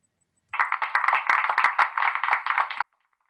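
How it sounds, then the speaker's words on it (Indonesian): Short burst of applause from a church congregation at a campus Friday worship service, dense clapping starting abruptly, lasting about two seconds, then stopping cleanly into silence. "terima kasih untuk tepuk tangannya"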